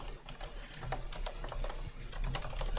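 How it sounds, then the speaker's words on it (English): Rapid, irregular keystrokes on a computer keyboard, close and fairly steady over low background hum, with no voices. "I can type"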